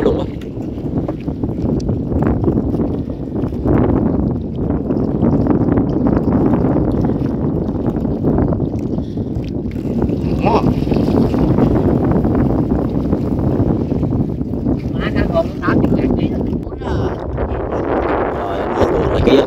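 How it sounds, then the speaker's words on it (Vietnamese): Strong storm wind from Typhoon No. 4 buffets the microphone on a boat crossing floodwaters, a loud, continuous roaring rumble that swells and eases in gusts throughout. "Gió quá gió"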